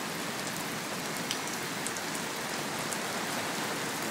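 Heavy rain pours steadily onto a flooded New York City street on a Friday night, a dense, even hiss of drops on water and pavement with scattered louder splashes, close and continuous.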